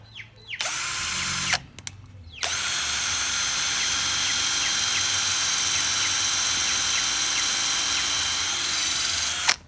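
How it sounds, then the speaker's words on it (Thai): A 24V cordless drill bores into rubberwood with a loud, steady high whine, opening with two brief bursts and then running continuously for about seven seconds before cutting off, with no talk. "มาเจาะกันเลยเดี๋ยวผมจะ เจาะไม้ไม้อะไรดีวะ ไม้ยางก็ได้"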